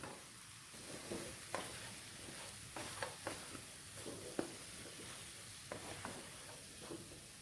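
Fried chicken pieces being stirred into a hot masala in a pan: repeated scraping spatula strokes and clacks over a low, steady sizzle, close and fairly quiet, with no talking.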